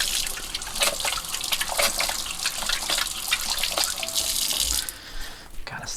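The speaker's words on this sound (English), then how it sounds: "I'm also gonna wash my hands." Tap water runs steadily into a kitchen sink while hands are washed under it, a close, continuous splashing hiss that thins out near the end, with no one talking.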